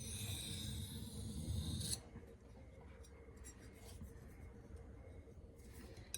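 Light freehand passes sharpening a 4V steel custom knife on a stone, a close, raspy scraping stroke followed by fainter, softer rubbing strokes, quiet and without talk.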